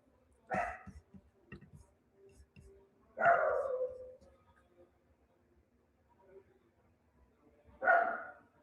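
Several dogs bark in three separate loud bursts, spaced a few seconds apart, with quieter background noise between them during a live indoor meditation session.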